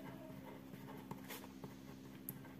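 Pen writing numbers by hand on paper while working a cost accounting problem, a faint continuous scratching with a few light taps over a low steady hum.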